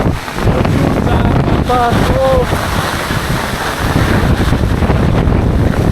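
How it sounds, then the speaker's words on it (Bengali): Strong wind sweeps over floodwater covering a park at Bagdha Bazar, a loud, steady buffeting roar across the microphone throughout, with a couple of brief faint tonal sounds near the middle. "প্রচুর বাতাস আমি এখানে দাঁড়াইতে পারতাছি না"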